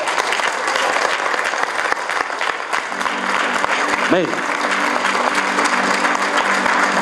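A church congregation claps in praise during a service, a dense continuous applause throughout, with a voice rising briefly above it partway through.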